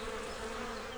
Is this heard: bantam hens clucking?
no